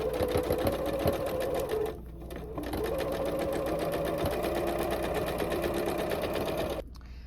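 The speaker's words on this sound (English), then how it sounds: "I'm going to sew it on." Sewing machine stitching a row of fabric scraps onto a Santa hat, a loud close whirring run that stops briefly twice and restarts, with no talk.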